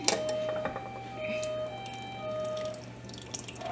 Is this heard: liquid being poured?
yes